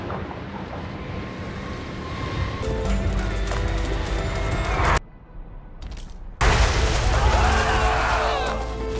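Reichsguard cavalry charging in Total War Warhammer 3, a dense battle roar of galloping hooves and clashing noise with scattered gunfire, broken by a brief near-silent gap before the din surges back loud.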